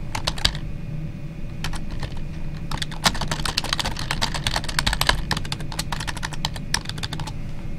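Rapid, steady typing on a computer keyboard, dense clicking keystrokes close to the microphone over a faint background hum, continuous throughout with no speech.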